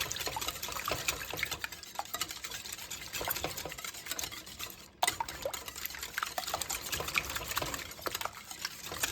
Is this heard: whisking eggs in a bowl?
yes